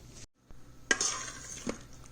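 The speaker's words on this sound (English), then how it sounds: "I'm going to open the lid now" An Instant Pot lid being opened after vermicelli kheer has cooked: a short metallic clink, then a hiss of escaping steam that fades, with another light clatter near the end.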